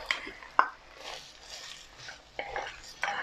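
Soft scraping and clinking of a utensil stirring tomato into sweated onion in a pan, a few distinct taps and scrapes at irregular intervals, fairly quiet and close.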